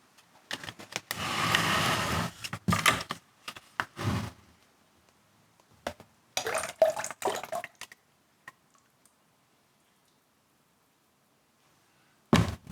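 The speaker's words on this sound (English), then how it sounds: "we'll pour in some slip" Liquid ceramic slip pours into a container in a few separate bursts of splashing and trickling, with quiet gaps between them and a last short pour at the end.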